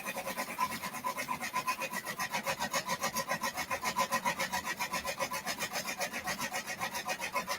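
A Brother embroidery machine stitches a design onto a backpack, making a fast, even, rhythmic chattering of needle strokes, steady and close, with a fan humming underneath.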